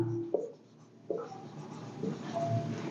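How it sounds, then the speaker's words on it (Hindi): A pen or chalk writes on a board in short scratchy strokes, a couple of distinct squeaks and then softer continued writing, close and fairly quiet, with no talking. "उसके बाद लिखेंगे सब्जेक्ट मोना"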